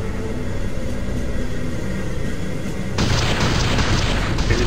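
An enemy structure blows up in the real-time strategy game Ground Control, a loud steady rumbling blast that swells into a brighter, harsher burst partway through.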